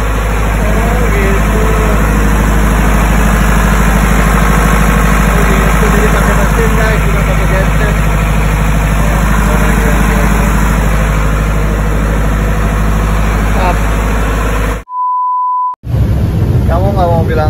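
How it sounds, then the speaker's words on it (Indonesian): A generator engine drones loudly and steadily in the engine room of a phinisi boat, with a brief electronic beep near the end and voices talking over the noise. "Kamu pakai mesin, pakai genset berarti?"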